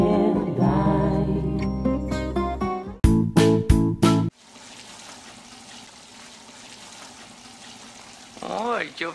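Warm water pours in a steady, broad rushing stream once the preceding music cuts out, and a voice breaks in briefly at the end.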